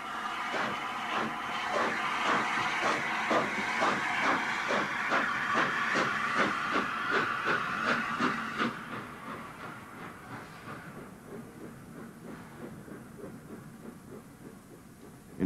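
LNER Peppercorn A2 class steam locomotive Blue Peter hisses steadily with rapid rhythmic chuffing beats that fade into softer continuous steam after about eight seconds, heard from moderate distance with no voices.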